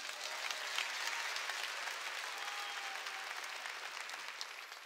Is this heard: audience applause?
yes